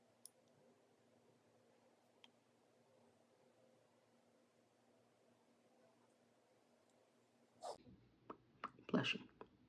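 A sneeze bursts out near the end after a long near-silent stretch with faint clicks, a short sharp burst followed by a few quick sniffs and rustles.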